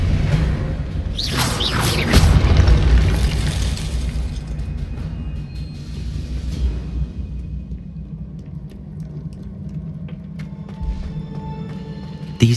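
A burst of spell magic from Hogwarts Legacy: a loud whooshing blast with rumbling, shattering impact around the second mark, settling into a low droning rumble with scattered small crackles.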